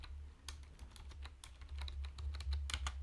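Close, rapid typing on a computer keyboard, the keys clicking in quick uneven bursts over a low steady hum, with no voices.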